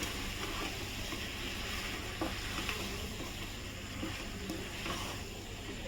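Chicken masala sizzling in a pan as coriander and cumin powder are stirred in, a dense continuous frying hiss with occasional scrape and clatter of the spoon, close and steady, no talking.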